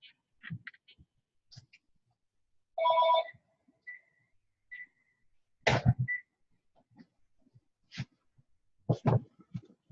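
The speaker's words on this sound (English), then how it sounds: "that's my home phone that I forgot to toss into the other room" A home landline phone gives a single short ring in a quiet room, surrounded by scattered small coughs, throat noises and faint knocks.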